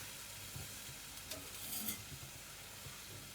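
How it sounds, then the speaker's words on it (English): Tamarind water poured into hot tempering seasoning in a pan for pepper water, giving a steady low sizzle with stirring scrapes and a brief louder hiss partway through, no talk. "And I'm adding in the tamarind water."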